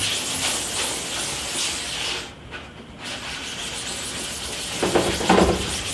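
Brush scrubbing foaming Chroma Wet degreaser and adhesion promoter across a screen, a close wet hissing rub that continues throughout with a short quieter pause and bristly strokes near the end.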